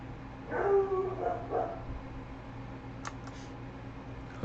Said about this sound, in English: Hope you guys enjoyed the dog barking in the background